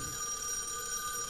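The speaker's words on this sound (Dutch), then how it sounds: "Telefoon." A telephone rings steadily in a horror video game, a continuous electronic bell tone held throughout with no talking.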